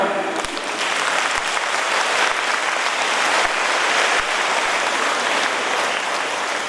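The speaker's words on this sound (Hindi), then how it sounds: "ताली बजाओ" Steady applause from a gathered audience at a Brahma Kumaris Bardhaman 25th anniversary celebration, dense even clapping filling the hall throughout with a few sharper claps standing out near the front.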